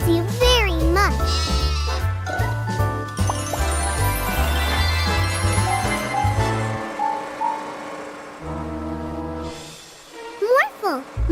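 A cartoon sheep bleating in a wavering, warbly voice amid a lively animated farm scene with music, with speech from characters in between and a final quivering bleat at the end.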